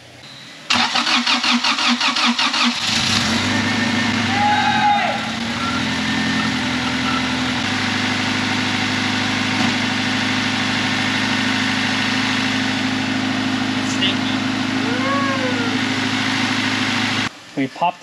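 A built Honda B-series LS-VTEC engine starts for the first time: it cranks briefly, then catches and settles into a loud, steady idle that continues for over ten seconds before cutting off.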